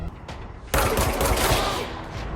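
Gunfire in the video game Control. After a quiet start, a sudden loud burst of rapid shots hits and carries on as a dense, sustained volley before easing slightly.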